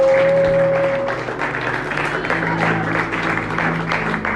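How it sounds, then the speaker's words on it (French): Sustained audience applause fills a church or hall gathering, steady dense clapping throughout, loud and close, with no talking over it. "Est-ce qu'on peut les acclamer?"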